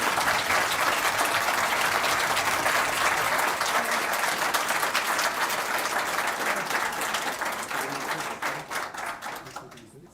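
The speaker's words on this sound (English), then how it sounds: "So please, let's clap again and say congratulations again to Professor Vassal." An audience at a university inaugural lecture applauds in congratulation, a full continuous round of clapping that thins out and fades toward the end as individual claps become audible.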